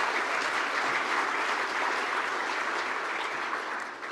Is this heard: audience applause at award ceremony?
yes